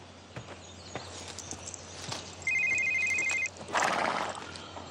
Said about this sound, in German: Jerry, dein Handy. Soll ich rangehen?